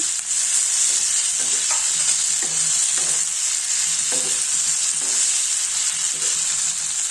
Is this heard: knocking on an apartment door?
no